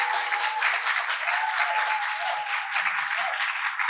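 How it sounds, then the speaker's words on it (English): FTC and FGC robotics team members clap together at an IEEE event in Jamaica, a steady, dense burst of applause filling the room without a break. "that's all of the FTC and FGC team clapping"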